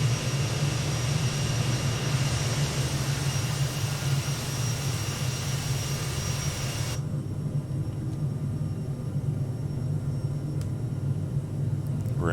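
Twin jet engines of a CRJ-700ER regional jet at climb power after departing Philadelphia, in a flight simulator game: a loud, steady roar with a high whine throughout, the upper hiss dropping away abruptly partway through while the low rumble continues.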